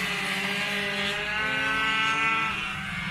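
50cc mopeds race at night during an 18-hour endurance event in Mortain, their small engines making a loud, continuous buzzing drone that holds steady throughout.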